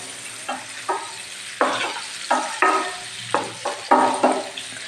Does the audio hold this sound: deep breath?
no